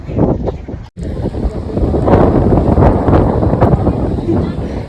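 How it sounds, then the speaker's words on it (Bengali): Strong open-air wind gusts at Kalinarayanpur station on an overcast day, roaring steadily against the microphone for several seconds after a brief cut, with a faint voice underneath. "প্রাকৃতিক হাওয়ার লাগে আমরা এখানে আইছি এখন।"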